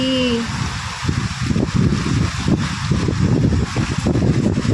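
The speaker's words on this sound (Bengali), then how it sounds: "দেখো কিরকম হচ্ছে ঝড় বৃষ্টি।" A wind and rain storm at home seen through a window, dominated by loud, continuous roaring gusts buffeting close by, with rain hiss blended underneath.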